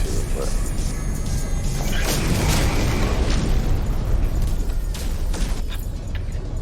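Heavy rocket explosions in No Man's Sky boom and crash in a dense, continuous barrage of blasts and bursts, loud throughout with a voice talking over the din.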